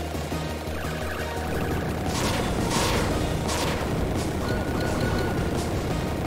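Bomb blasts in the shoot-'em-up game Broken Pearl, a sustained loud roar of booming explosions layered over constant rapid gunfire and game music, with bursts swelling midway.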